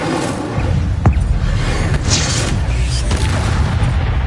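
A fire spell cast in the Hogwarts Legacy video game: a loud, sustained roaring burst with booming low rumble and a few whooshing flares, continuous throughout and very close.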